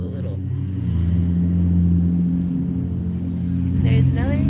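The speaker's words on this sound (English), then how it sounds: "Why all this traffic noise, Sam?" Road traffic rumbles steadily and loudly past a garden, with a car engine droning through and a brief voice near the end.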